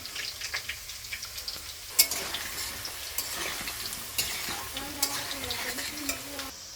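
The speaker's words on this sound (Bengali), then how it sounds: "তো ওই জন্য আলুটা আগে ভেজে নিব" Potatoes frying in a pan as a first step before a meat curry give a steady, close sizzle throughout, with a few sharper spatters and light stirring scrapes.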